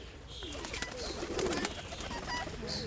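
Pigeons coo repeatedly at a pigeon and bird fair in Sievierodonetsk, soft overlapping calls against a steady crowd murmur and faint chirps.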